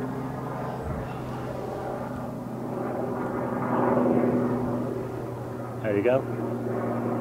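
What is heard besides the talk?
helicopter flying past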